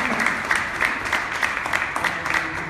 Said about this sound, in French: Alors, je vous demande de l'applaudir, Karel Pedre.